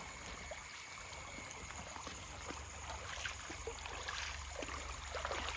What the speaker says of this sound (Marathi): आता आपण आलो नदीवरती